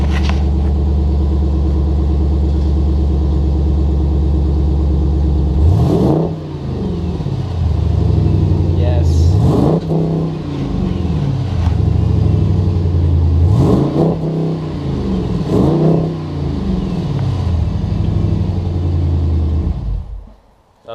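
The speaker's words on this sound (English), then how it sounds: "Sounds like straight pipe exhaust." A Jeep SRT8 fitted with a Borla exhaust idles with a deep burbling rumble, then revs sharply four times in an even rhythm, each rise and fall close and loud over the steady idle, before the engine cuts off.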